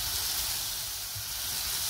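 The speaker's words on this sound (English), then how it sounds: "now we put the dough in and we're just gonna leave it to cook for a few minutes" Lebanese doner dough laid into a hot pan with melting fat gives off a steady, close sizzle and hiss that holds evenly throughout, with no talking.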